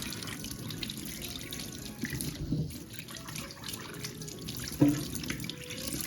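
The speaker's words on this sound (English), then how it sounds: "Just listen to the flow of water and how soothing it is to the mind." Tap water runs steadily into a sink while fresh vegetables are washed, a continuous near hiss and gurgle with a couple of brief splashes or knocks from handling, no voices over it.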